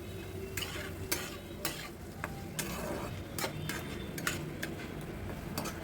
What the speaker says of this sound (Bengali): আলুটাকে দিয়ে মশলার সাথে ভালো করে কষিয়ে নিয়েছি।